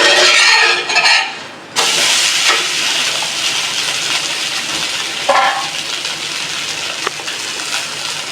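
A moong dal dosa roasts and sizzles loudly on a hot pan, a steady close hiss broken by a brief scraping flip early on and a few soft clicks later.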